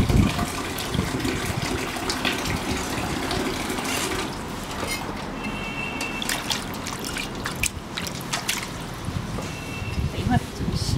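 Bracken fern being washed in water, with steady splashing and trickling that runs nonstop, close and fairly loud, marked by frequent small sloshes and knocks.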